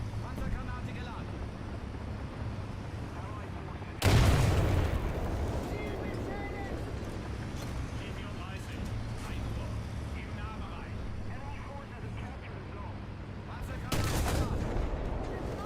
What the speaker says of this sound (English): A pen shot of 70mm cannon does absolutely nothing.